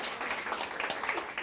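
A studio audience claps at a comedy monologue, steady dense applause throughout, moderately loud and somewhat distant.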